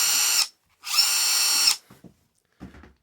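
A Ridgid subcompact drill driver with soft start spins up at close range in two high-pitched whirring runs, the second longer, followed by a few faint clicks and handling sounds.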